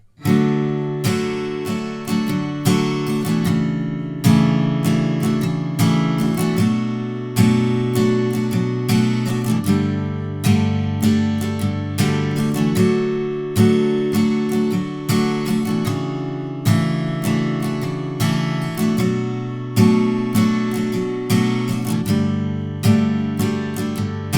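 Acoustic guitar chords strummed in a steady, repeating rhythm, bright and close, with no one speaking.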